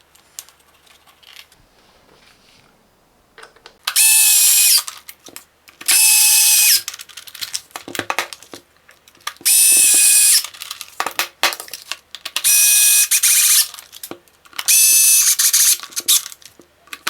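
A power drill backs six screws out of the cover of a Parkside PLGS 2012 A1 smart battery charger, with five loud, whirring bursts of about a second each, separated by quieter clicks and handling noises.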